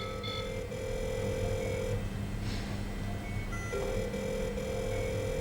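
A telephone rings in the horror video game Soma: a tonal, buzzing ring that plays, pauses briefly, then starts again over a low ambient hum.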